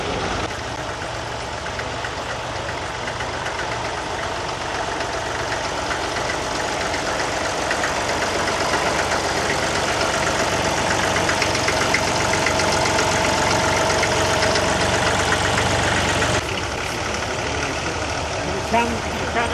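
Tractor engine running steadily while pulling a plough across a field, a continuous loud mechanical drone with a slight shift in tone toward the end, no pauses throughout.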